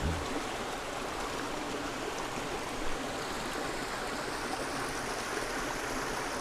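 A farm river streams past in a steady, close, broadband rush of flowing water, even and unbroken throughout, with no talk.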